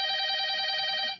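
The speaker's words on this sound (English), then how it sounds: "that would be Andrew's sister's phone" A phone rings with a steady electronic tone, loud and close, sounding continuously for about a second before cutting off, with no talk over it.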